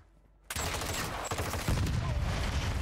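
Close-range hip-fire gunfire in the Call of Duty DMZ video game: a brief quiet lead-in, then loud, dense rapid bursts of shots that continue without a break to the end.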